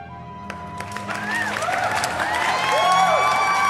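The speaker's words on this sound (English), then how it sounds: "the Penguin addressed a cheering crowd" A crowd cheers for the Penguin's noon speech in a Batman Returns audio drama. Applause and whoops build steadily and grow louder, with high shouts rising over a dense crowd roar.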